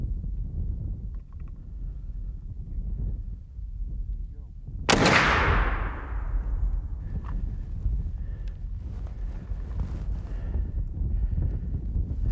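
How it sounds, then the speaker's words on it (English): A single sharp rifle shot fired while hunting bulls outdoors, a sudden loud crack with a long fading echo, set against low ambient rumble and faint movement noise. "I've got to make this one shot count."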